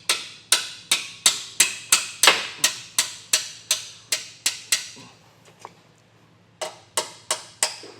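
A hammer strikes welded tabs on the handle nuts of a 2023 Jeep Grand Cherokee: a dozen sharp metallic blows in a steady rapid rhythm, a short pause, then four more, close and loud.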